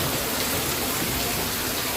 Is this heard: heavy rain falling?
yes